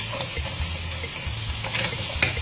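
Frozen shrimp tossed in a hot pan for Hokkien mee, giving a steady close sizzle with a few faint scraping tosses and no voices.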